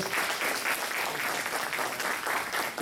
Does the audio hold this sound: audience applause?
yes